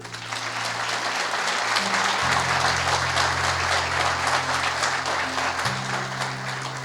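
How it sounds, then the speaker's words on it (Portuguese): Church congregation applauding during a sermon: dense, sustained clapping from a large crowd for the full stretch, with a steady sustained chord of instrumental music underneath. "Alguém pode aplaudir ele?"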